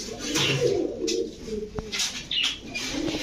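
Old-breed Chila pigeons coo softly in repeated low, throaty calls, with faint chirps and a brief flutter between them, fairly close by.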